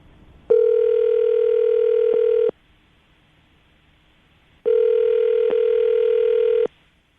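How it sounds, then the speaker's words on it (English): Telephone call being placed during a radio morning show, heard as two long, steady electronic ringing tones of about two seconds each, separated by a two-second silence, clean and close with no voices. "I'm going to dial the phone number right now"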